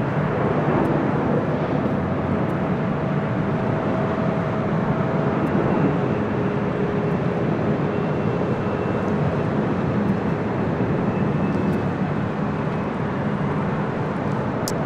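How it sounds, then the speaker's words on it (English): A Delta Airlines Boeing 737-800 jet at LAX, bound for San Francisco, roars in a loud, steady broadband rumble that holds unbroken for the whole span, with no talk over it. "This is Delta Airlines flight 789 heading to SFO San Francisco and a 737-800"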